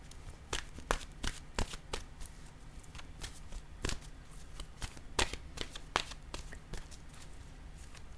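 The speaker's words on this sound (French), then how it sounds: "Je vais piger maintenant une carte de mon oracle de l'âme intuitive." Oracle cards from an intuitive-soul deck being shuffled and drawn by hand, a steady run of crisp flicks and snaps for several seconds, close but fairly quiet, with no talking.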